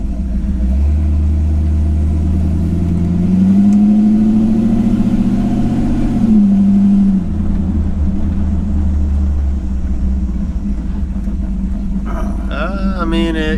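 A 1951 Chevy truck engine drones on a test drive, its note rising and falling as it accelerates and settles, with voices talking faintly over the cab noise.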